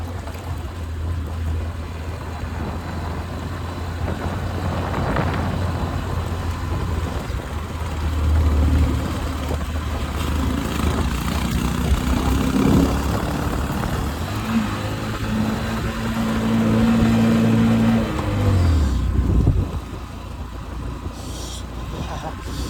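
A Bajaj motorcycle engine runs in second gear on a freezing high-altitude mountain pass at about 17,400 ft, a steady low drone with rising pitch sweeps and revs beneath wind roar, with a voice talking over it.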